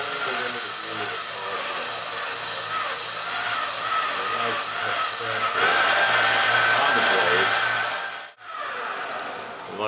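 A blade held against a belt sander above its guide plate, sandpaper grinding steadily and loudly for about eight seconds, its pitch rising partway through, before a brief drop and restart near the end.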